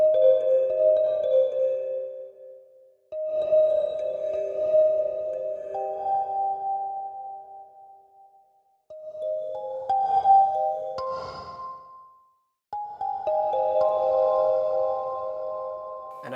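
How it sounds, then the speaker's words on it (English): Sustained synth tones from a sound module ring out in separate phrases, each trailing into a different reverb type's wash of echo and decay, with short silences between them. "let's change the reverb type using this knob"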